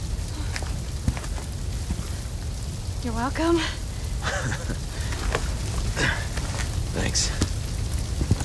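Fire burning in the game Resident Evil 4 Remake, a continuous soft crackle and hiss like steady rain, with brief game voices and grunts over it.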